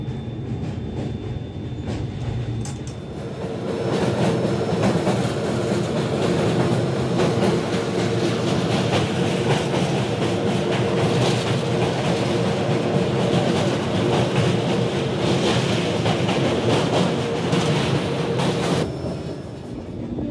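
A Shatabdi Express train rumbles steadily along the rails, a continuous loud roar with faint rhythmic clatter of wheels, close and sustained throughout.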